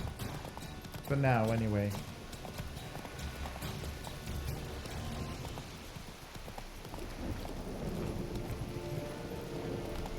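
Horse hooves clip-clop at a gallop in The Witcher 3, with a short whinny near the start and someone talking over the running.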